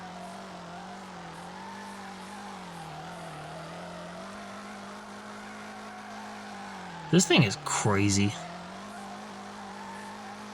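Car drifting in the video game FR Legends: a steady engine drone with a sharp burst of tire squeal partway through, and a voice talking briefly over it.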